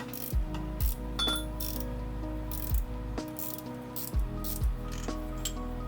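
A ratchet works a 16mm bolt on the starter of an Audi Q5 2.0, giving repeated clicking strokes in a steady rhythm, close and clear, over a constant background hum.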